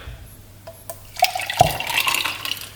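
A wellness shot drink is poured into a container, starting as faint drips and then turning into a steady splashing trickle that lasts about a second and a half.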